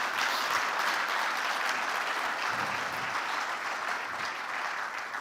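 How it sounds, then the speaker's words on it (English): Sustained audience applause at a keynote session of the HbbTV Symposium 2025 in Istanbul, honoring Jon Piesing and the HbbTV specification group, a dense, steady wash of clapping from a large hall crowd with no talk over it. "Jon and the specification group deserve a round of applause"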